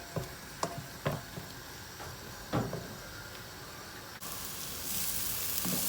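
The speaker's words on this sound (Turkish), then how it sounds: "Soğanımızı karıştırmaya başlıyoruz." Onions sizzle and fry in a pan for a Turkish-style cabbage dish, with sharp clinks and scrapes from stirring scattered over a steady frying hiss that swells louder toward the end.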